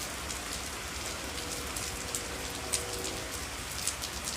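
Steady rain pours down, a continuous close hiss with occasional brighter drips tapping through, no voices or thunder.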